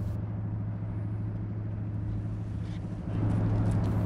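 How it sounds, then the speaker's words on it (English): Car traffic on the Lions Gate Bridge makes a steady distant roar with a constant low hum that grows slightly louder partway through. "this bridge has a huge amount of car traffic and is quite noisy even from this distance"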